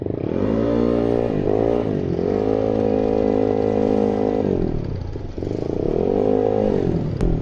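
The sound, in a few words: motorcycle engine running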